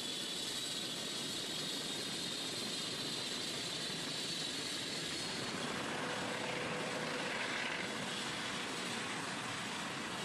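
A police helicopter drones loudly and steadily overhead, a dense continuous roar with a slight shift in pitch partway through, no voices.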